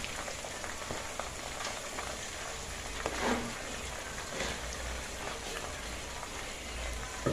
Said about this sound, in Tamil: எண்ணெய் வந்து நல்லா கொதிக்கும்.